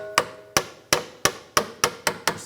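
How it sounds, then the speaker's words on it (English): Hammer tapping the end of a pick to stretch a clip inside a tie rod boot on a 2009-2013 BMW 328i xDrive, eight sharp metallic taps at an even pace, close and clear with no talk. "Just tapping the end of the clip with the hammer."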